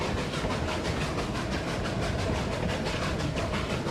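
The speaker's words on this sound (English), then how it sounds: "They're trying to stop the train by putting stones on the track." An animated steam train runs along the track with a steady, loud, continuous rumble and rhythmic clatter that holds level throughout, with no voices over it.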